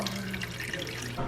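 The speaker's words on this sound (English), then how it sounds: "I like to thicken the sauce, so I'm pouring it into a pan over medium heat" Honey garlic sauce for slow-cooked pulled chicken pours steadily into a pan over medium heat, a continuous close liquid stream with no talk.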